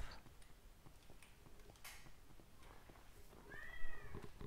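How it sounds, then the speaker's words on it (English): A cat meows in a room during a gaming session, one short, fairly faint meow rising near the end over a busy background of clicks and light noise. "My cat's in my room."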